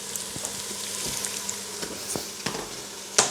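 Chopped garlic and mushrooms fry in a pan with a steady broadband sizzle, punctuated by faint scraping stirs and one sharper clack near the end.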